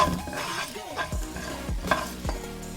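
Peanuts frying in a pan for a South Indian rice noodle dish, with steady sizzling and several distinct scraping stirs of a spoon spread across the clip, close and fairly loud, no talking.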